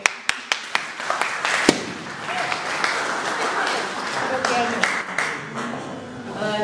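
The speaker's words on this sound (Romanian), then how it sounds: "Aplauze!" Audience applause at a cultural centre event in Romania with a children's art contest: a few crisp, separate claps at first, then a broad, steady patter of many hands that carries on to the end.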